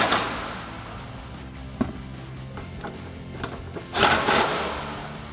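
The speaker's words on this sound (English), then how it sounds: "So now I'm going to take my 10mm and my gun. I'm I'm going to tighten the bottom two up." Power gun with a 10mm socket tightening headlight mounting bolts on a 2005-2009 Mustang, giving short whirring bursts and ratcheting clicks, close by, among quieter handling noises in a garage.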